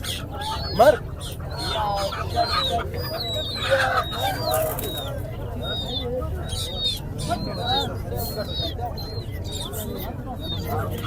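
Chickens cluck and chirp amid partridges, quail, pigeons and other birds at a Friday bird market in Quetta, with people talking in the background throughout.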